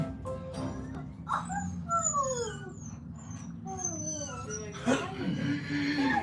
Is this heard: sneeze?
no